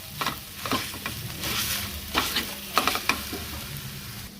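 Raw mango thecha being stirred together with peanut and coconut oil, a steady wet mixing with soft scraping strokes and a few sharper clinks of the spoon, close and moderately loud with no talking.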